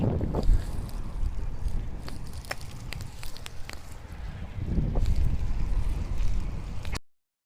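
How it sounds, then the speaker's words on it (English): Stiff headwind buffeting a microphone during a bicycle ride outside Hutchinson, Kansas, a steady low roar with gusty surges near the start and again toward the end, continuous throughout before cutting off. "We've had a stiff headwind"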